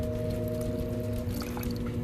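Water pours steadily into a pot of dried black beans, a soft continuous stream under a faint steady hum.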